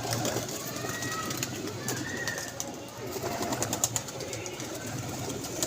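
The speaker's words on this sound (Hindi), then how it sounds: "ये भी कबूतर उतरा हुआ है।" Pigeons coo softly amid a continuous outdoor hum, low throaty calls repeating at a distance with brief clicks and faint bird chirps mixed in, and voices murmuring now and then.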